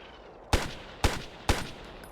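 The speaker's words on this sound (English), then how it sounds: "Even though these guys are hearing gunfire, they're not doing Another anything." Gunfire in the video game Ghost Recon: three loud, sharp single shots about half a second apart, each with a short fading tail, and no voices.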